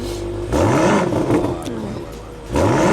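A BMW car engine revs in two or three surges, the pitch climbing with each blip, loud and close, with some voices faintly in the background.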